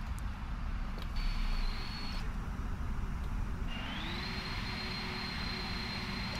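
A PMDG 747 on landing approach in the Prepar3D flight simulator gives a steady cockpit engine drone with a low rumble, while faint tones rise and shift as flaps and gear are set.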